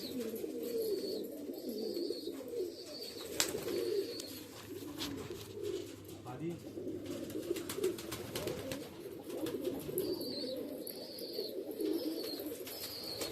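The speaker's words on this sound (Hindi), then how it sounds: "ये इनके वाइट डूम वाले कबूतर।" White-dome and khaira pigeons at a pigeon loft in Karanja Lad, Vidarbha, coo steadily in a close, continuous chorus of low repeated coos, with occasional brief chirps above and no talking.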